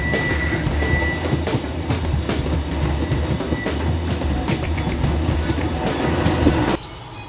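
A passenger train rolls along the rails with a loud, continuous rumble and rhythmic clatter, heard from inside the car, with faint squeals before the noise suddenly drops away at the end.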